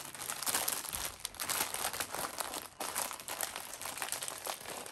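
Plastic bag crinkling and rustling as drill bits are packed back into it, continuous close, busy crackling for several seconds with no talk.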